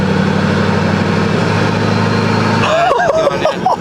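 A 6.4L Powerstroke diesel pickup fitted with big turbos idles in drive around 1,500 rpm, a steady loud rumble with a droning hum; near the end a voice talks over it.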